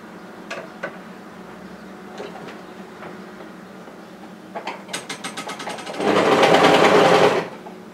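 A sewing machine sews a seam on a knit sweater: a few scattered clicks and taps, a short stuttering start, then a loud close burst of rapid stitching that stops abruptly.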